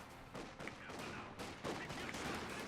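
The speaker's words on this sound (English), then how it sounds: "Echelon Rifleman opening fire." Rifle squads open fire in a competitive real-time strategy game match, producing quiet bursts of overlapping gunshots. The crackling volleys run continuously at a low level throughout.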